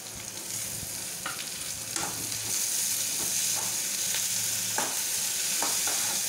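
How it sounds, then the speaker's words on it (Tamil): Tomatoes sautéing in oil in a pan for radish chutney, a steady close sizzle with occasional scrapes and knocks of a stirring spoon. "தக்காளியை நல்லா வதக்கிட்டுருக்கோம்."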